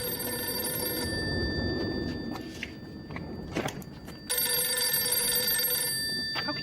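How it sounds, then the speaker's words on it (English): An old-style telephone bell rings in steady bursts, loud and close, with a short gap and some shuffling movement before the ringing resumes. "What am I supposed to do with a ringing phone?"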